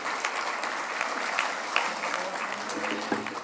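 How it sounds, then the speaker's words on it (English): Sustained applause from an awards audience at the Royal Automobile Club for David Richards of Motorsport UK, a thick, even patter of many hands at moderate loudness throughout. "A big round of applause, please, for David and all the work that he does."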